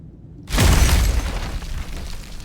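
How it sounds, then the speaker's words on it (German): A deep, loud rumbling roar from a creature in the video game Beast of Reincarnation bursts in suddenly after a quiet moment, then trails off into a rough, lingering rumble. "Da knurrt was."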